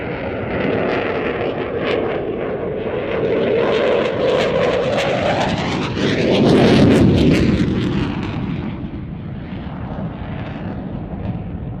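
An aerobatic display jet at RAF Mildenhall roars loudly throughout a manoeuvre, swelling to a peak midway with afterburner rumble, then easing off.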